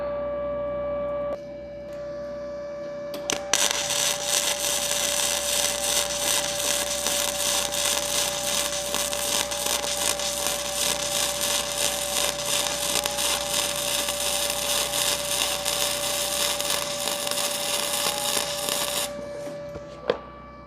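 An ArcCaptain MIG 200 welder lays a bead in a continuous close crackling buzz that lasts about fifteen seconds, starting and ending abruptly, with a steady hum before and after.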